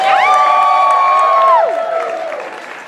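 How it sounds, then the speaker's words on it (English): Wedding guests honoring the newlyweds raise a long, high, drawn-out cheering whoop that slides downward at the end, over a softer bed of clapping and crowd noise. "can we have a round of applause for Mr."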